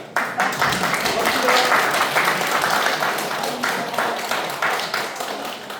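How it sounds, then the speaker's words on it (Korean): Audience at a public hearing in Chungbuk on recording unknown independence activists breaks into loud, steady applause, dense clapping that fades slightly toward the end. "큰 박수 부탁드리고"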